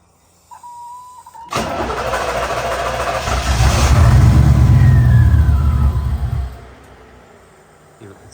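A 1988 IROC-Z Camaro engine that had not run in a long time, started after a spark plug change, catching abruptly and running at a loud, steady idle that swells slightly before settling back down.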